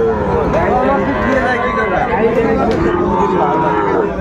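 Sahiwal bulls and cattle at a busy livestock market, one close drawn-out moo rising over steady crowd chatter and bargaining voices.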